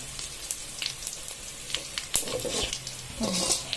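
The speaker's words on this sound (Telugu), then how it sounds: "ఇంగువ వేసుకొని అది కొంచెం స్మెల్ పోయే వరకు ఫ్రై చేసుకున్నాము" Dried red chillies and asafoetida frying in oil for tamarind rice, a light crackling sizzle with sharp pops and utensil clicks scattered across a few seconds, no voices present.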